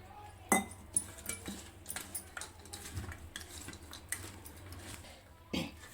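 Pieces of dried fish being mixed by hand with a little water in a metal bowl for pakodi, quiet wet squelching and intermittent clinks against the vessel, soft and close.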